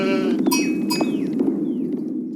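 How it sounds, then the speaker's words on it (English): Sheep bleat in a video game, several wavering cries layered over a dense, continuous flock murmur, with clinking bell-like tones and short descending chirps mixed in. "I do love gathering the sheep. I do love that noise."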